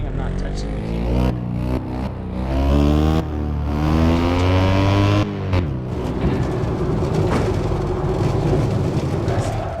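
A car engine hums and revs as it accelerates through gear changes, loud and continuous, with pitch sweeping up repeatedly.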